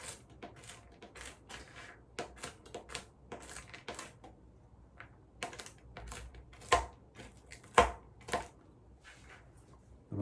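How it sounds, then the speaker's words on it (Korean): A knife chops pecan halves on a board for a carrot cake, giving a quick, irregular series of sharp, dry taps and crunches with brief pauses between them. "이렇게 반태로 나오는 피칸 같은 경우는 조금 살짝만 좀 다져 주셔서 사용하시면 좋을 것 같아요"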